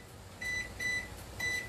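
A running microwave oven hums steadily while heating pasta with chicken in tomato cheese sauce, then sounds three short, clear electronic beeps evenly spaced about half a second apart.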